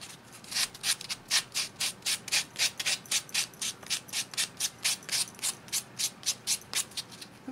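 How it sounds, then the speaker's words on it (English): A metal file rasps across a metal steampunk spoon pendant to distress it, making about twenty quick, even back-and-forth strokes, close and steady with no talk. "I'm going to distress this a little bit first. This is the easy part. This is kind of filing I like."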